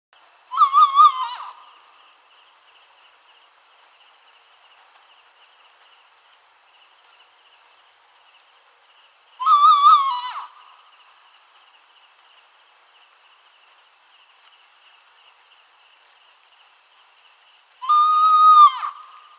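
An owl calls in a dark forest at night, three separate hooting notes spaced several seconds apart, against a continuous high insect chorus.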